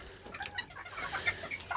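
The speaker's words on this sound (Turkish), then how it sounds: "Bakın o da orada ötüyor maşallah" Serama chickens in a backyard coop give soft clucks and short calls, a few close, scattered bursts with no talk.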